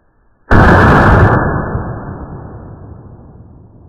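A single loud gunshot fired at an Ajax target bursts out sharply and close, then fades slowly through a long decaying echo.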